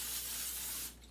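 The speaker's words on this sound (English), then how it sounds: "I'm gonna spray the pan a little bit just so it doesn't stick." Cooking spray hisses into a pan in one continuous close, loud burst that cuts off near the end.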